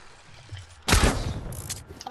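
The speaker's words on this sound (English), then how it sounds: "Oh, he's still shooting at me." Gunfire in a one-on-one video game match bursts out suddenly after a quiet start, a loud rapid volley of shots that trails into scattered rattling fire.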